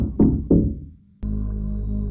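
Heavy knocks sound from inside a locked door in a haunted house: two loud, booming thuds in quick succession that ring out and fade, then a low steady drone swells in.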